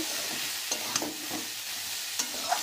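Beans, carrots and cabbage frying in a pan for a wedding-style mixed vegetable dal, with a steady soft sizzle and several sharp scraping stirs and clinks of the spatula spaced through it.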